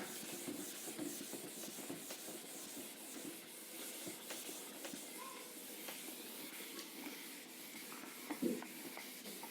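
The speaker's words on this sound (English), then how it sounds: "I will rub this out" A duster rubs writing off a board in a classroom, a steady close scrubbing hiss that continues with soft irregular strokes and a louder bump near the end.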